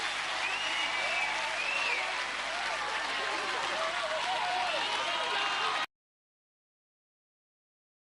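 Sustained applause and cheering from a family crowd in a Gladiators arena for a contestant, steady and dense for about six seconds, then cut off abruptly into silence.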